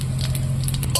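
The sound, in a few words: cumin and bay leaf sizzling in hot oil in wok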